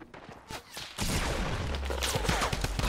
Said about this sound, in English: there's gunshots being fired